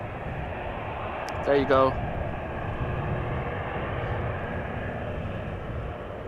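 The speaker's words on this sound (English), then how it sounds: "it's keeping up the speed, it's doing a touch and go, it's doing a few circuits" An airliner flies a touch-and-go circuit at Amsterdam Schiphol Airport, its engines a steady, distant broadband roar that lasts the whole clip, with a brief voice speaking partway through.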